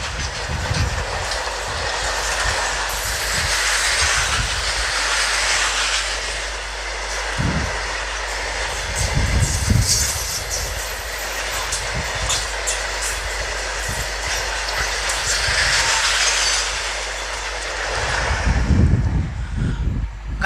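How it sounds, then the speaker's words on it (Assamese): A long, fully loaded goods train rolls past on the rails nearby, a steady heavy rumble with rhythmic clacks of wheels over joints, swelling loud at the start and end. "আৰু ট্ৰেইন ৰাস্তাৰ আৱাজ চাওক, ট্ৰেইন গুচি গ'ল, আৱাজটো চাওক।"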